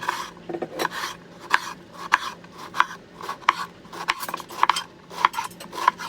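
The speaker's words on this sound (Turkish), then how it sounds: "Bütün patlıcanları bu şekilde doğruyorum." A knife slicing eggplant into strips on a cutting board, with a rhythmic series of crisp cuts and taps about twice per second, close and clear, without speech.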